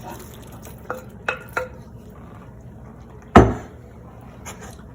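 Chicken goes into a cooking pot with a few light clinks and clatters, followed by one louder thud and a brief scrape, all close and isolated against a quiet kitchen background.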